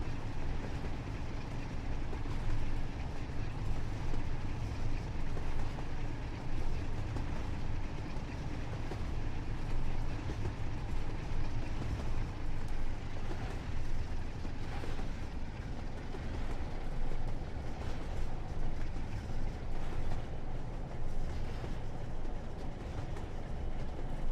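ScotRail train running at full power in Train Sim World 4 on the line to Blackpool, a steady loud rumbling drone of engine and wheels that holds unchanged for over twenty seconds.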